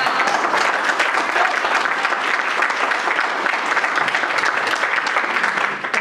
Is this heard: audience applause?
yes